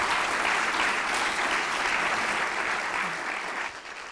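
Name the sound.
applause for the panelists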